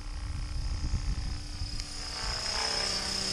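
A class 500 model helicopter flies nearby, its rotor producing a steady whooshing chop with a sustained high whine, swelling slightly toward the end, with no talking.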